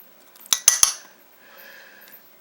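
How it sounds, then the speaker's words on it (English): A utensil scoops large-curd cottage cheese into a dish: three quick metallic clinks against the container, then faint soft scraping, close up with no talk. "I'm going to get a dish so I can scoop some of this out"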